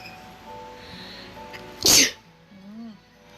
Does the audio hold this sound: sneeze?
yes